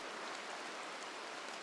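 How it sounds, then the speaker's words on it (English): Steady rain falls in the colony-building game RimWorld, a dense, even hiss of drops on the ground that holds at a constant level throughout with no voices. "it rains, it pours, and it's actually raining"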